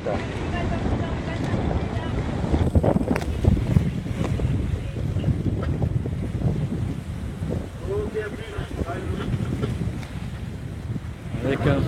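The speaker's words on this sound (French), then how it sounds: "Avec un fort vent de force, enfin 20 nœuds environ." A strong 20-knot wind roars steadily across the microphone aboard a sailboat arriving at Bizerte, with the boat's hull and waves adding a continuous, rough rush throughout.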